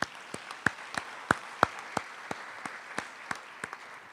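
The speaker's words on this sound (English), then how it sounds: "Give yourselves a round of applause, those that are here." Sparse audience clapping at a university athletics director's introductory press conference, a thin scattering of distinct individual claps spread evenly over several seconds, fairly quiet and without a full crowd roar.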